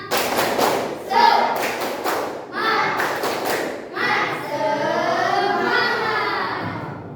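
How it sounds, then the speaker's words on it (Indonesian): Children in a classroom do a tepuk semangat, a rhythmic group clapping chant: bursts of unison claps alternate with chanted voices, close and lively, with thumping beats throughout. "Ayo, tepuk semangat dulu ya"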